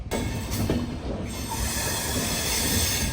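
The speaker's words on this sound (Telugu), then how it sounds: "బిరూర్ జంక్షన్ నుంచి బయలుదేరిపోయింది మన ట్రైన్." Train pulling out of Birur Junction on a Shimoga intercity service, with steady loud rumbling of wagons on the track and squealing wheels on the rails, continuous and close throughout.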